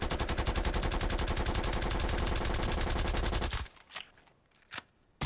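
Assault rifle in the video game Black Ops Cold War firing one long, rapid automatic burst for about three and a half seconds, loud and close, then stopping, followed by a few faint clicks and a short thump.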